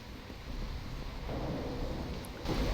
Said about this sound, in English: Also sounds like it's raining outside.